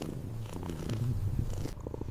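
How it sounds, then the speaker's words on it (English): A cat purring softly and steadily up close, a low rumbling vibration lasting a couple of seconds. "She leaned her head into my palm and began to purr."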